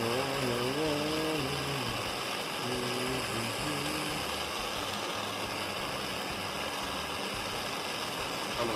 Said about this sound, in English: overkill with that torch